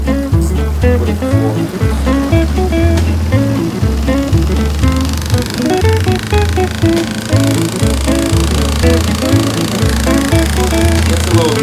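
A Super Deal portable washing machine runs a cycle with a loud, rhythmic mechanical thumping and rattling hum that repeats steadily and close throughout, with no pauses.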